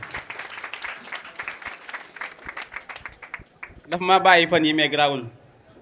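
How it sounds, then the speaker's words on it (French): Scattered audience clapping at a student conference, brisk sharp hand claps for the first few seconds that thin out, then give way to a person speaking clearly up close. "Des applaudissements pour elle."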